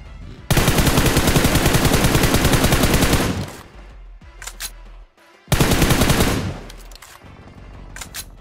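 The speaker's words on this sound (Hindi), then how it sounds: "इसके टीममेट को किसी और ने वेक्टर से मार दिया, जो कि सामने की तरफ ही ये आवाज भी आई थी" Loud, sustained bursts of Vector submachine gun fire in a battle royale video game, one long burst of about three seconds, then a short pause and a second burst, with scattered fainter shots between.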